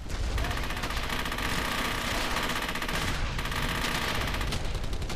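Dense, continuous machine gun fire in the WWII shooter Brothers in Arms: Hell's Highway rattles without pause, loud and close, layered with the roar of a battle.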